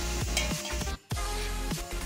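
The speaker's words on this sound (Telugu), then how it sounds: "ఎర్రగడ్డలు కొంచెం రెడ్గా వేగాలి, బాగా వేయించుకోవాలి." Onions frying in a pan for chicken biryani, with a steady close sizzle broken by several scraping stirs and one brief pause in the middle.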